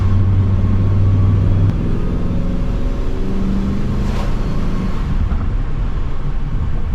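Procharged Pontiac GTO cruising on a road, a low steady engine rumble with a brief deeper drone at first, then a smoother, quieter run with wind and road noise.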